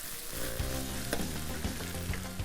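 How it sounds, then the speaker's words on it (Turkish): Walnuts being sautéed in a pan for Turkish filled börek, with a continuous close sizzle and frying crackle and the scrape of stirring throughout. "Mutlaka cevizleri ekledikten sonra da 1-2 dakika kavurun."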